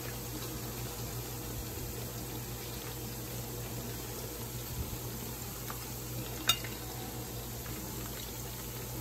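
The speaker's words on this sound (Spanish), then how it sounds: "Ahora estamos friendo aquí la cebolla, sofriéndola rapidito" Chopped onion frying quickly in a pan, giving a steady, soft, continuous sizzle at close range with a single sharp click partway through and no talking.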